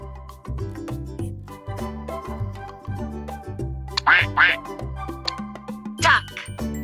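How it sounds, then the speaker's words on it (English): A duck quacks in a few close, nasal bursts over a bouncy children's music track with chimes, from a kids' farm animal learning game. "Duck."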